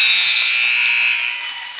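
A basketball end-of-period buzzer at a girls' high school game sounds one loud, sustained electronic tone for nearly two seconds, fading slightly at the end.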